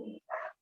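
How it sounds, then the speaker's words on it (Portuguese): Neighbour's dog giving two short barks or yelps in quick succession, faint and somewhat distant, with nothing else around. "Tem um cachorro latindo"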